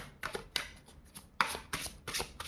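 Tarot cards being shuffled by hand at close range, a run of crisp riffling bursts and soft flicks in an uneven rhythm, with no talking.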